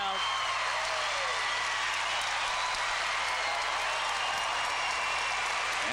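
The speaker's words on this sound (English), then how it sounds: "And the crowd goes wild." A crowd at a 1996 Pac-10 women's gymnastics championship cheers and applauds after a bars routine, a steady wash of noise at mid distance with a commentator's voice faintly over it.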